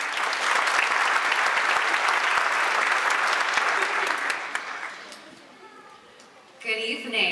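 Graduation ceremony audience applauding and cheering, a dense loud wash of clapping for about five seconds that fades out before a speaker begins talking.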